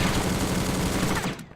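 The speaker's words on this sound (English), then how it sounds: "Let's see if we can get somebody with a SMG" A sustained rapid burst of SMG fire in the shooter game War Brokers, dense and continuous, loud and close for over a second before cutting off.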